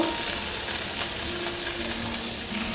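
Okra (bhindi) sizzles steadily in a frying pan as a vegetable curry is prepared, a constant close hiss and crackle with no talk.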